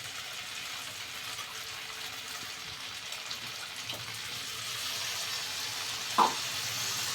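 Melon seed and cashew paste sautés in oil for malai chingri, a steady soft sizzle, with faint stirring scrapes and one brief clink near the end.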